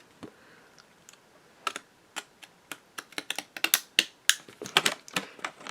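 Scissors snip through a recycled Christmas card in a quick series of sharp, close clicks that speed up and cluster toward the end, with no talking.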